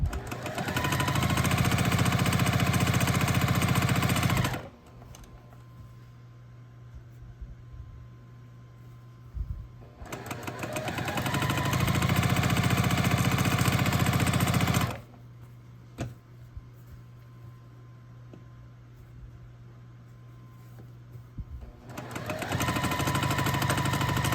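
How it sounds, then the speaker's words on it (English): A sewing machine stitches a long quilt seam with a quarter-inch seam allowance for a scrappy sampler block, running in three steady, close whirring bursts separated by quiet pauses. "I'm going to sew down the long seam using a 1/4 inch seam allowance"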